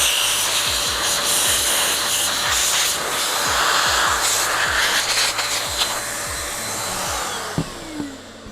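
Air is blown on a low setting through a Mars Lander V2 Bitcoin Solo Lottery Miner to clear out dust, a close, steady whooshing roar ending with a few light clicks and taps.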